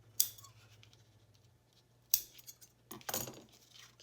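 Scissors snip the loose ribbon ends on a handmade Christmas pocket craft, a few sharp close cuts spaced apart with quiet handling between them.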